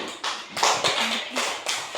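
Pupils in a classroom give a round of applause for a group of classmates, a brief burst of many hands clapping nearby in uneven surges, with a faint voice underneath.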